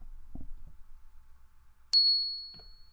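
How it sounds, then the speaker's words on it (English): A single bright notification bell ding rings out alone after near silence, clear and close, with a long shimmering ring that slowly fades. "tap the like, the sub, the post notification bell, the ding ding"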